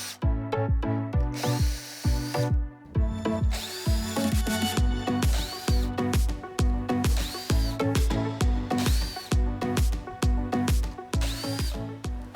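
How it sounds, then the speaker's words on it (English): A power drill bores into deck wood in repeated short bursts, the motor whining up and cutting off in a steady rhythm, loud and close with no talking. "make sure that I hold my drill nice and straight."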